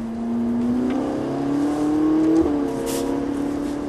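A Ferrari F458 accelerates steadily, its engine note rising smoothly in pitch as it revs up, then briefly dipping before climbing again, heard from inside the car with no talk.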